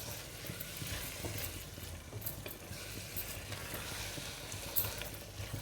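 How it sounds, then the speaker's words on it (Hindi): Grated carrot halwa roasting in a pan with sugar and ghee, a steady close sizzle and crackle with soft stirring scrapes running throughout. "चीनी और घी डालने के बाद इसको अब बस हमने मज़ीद इसकी भुनाई करनी है"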